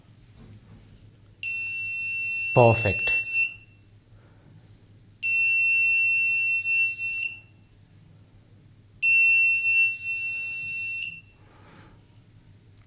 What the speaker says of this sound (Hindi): let's see if it can turn on the buzzer